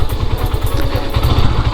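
Motorcycles idle and rumble close by as riders park them in front of a house for a haldi evening celebration, the engine putter continuous and loud.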